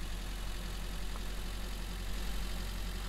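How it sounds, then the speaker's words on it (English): T-REX giant industrial machine in Giant Machines 2017 running its engine, a steady low rumbling drone with a constant idle hum and no clear start-up surge, loud and continuous throughout. "Start the engine."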